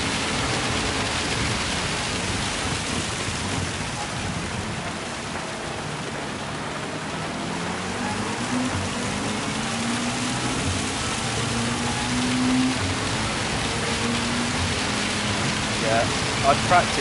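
Steady hiss of heavy rain in Gran Turismo 7 during a Gr.4 online race, a broad continuous wash with a car engine droning underneath and a voice speaking faintly at times.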